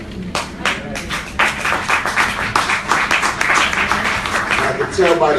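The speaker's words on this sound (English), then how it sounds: "I can tell by the spattering of claps that's still hard to get over." Scattered, thin clapping ripples through an audience at a political panel discussion, uneven and sparse across several seconds, with a voice speaking over it.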